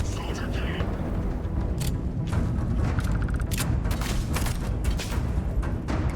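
Gunfire in the space shooter Starfield: a volley of sharp shots sounds in bursts across the scene, with a player talking over the top.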